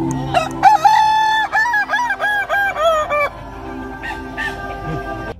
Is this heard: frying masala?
no